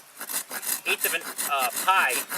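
Hand saw cutting a wedge-shaped slot into a wooden bow drill fireboard, quick close back-and-forth rasping strokes, about eight in a brief burst.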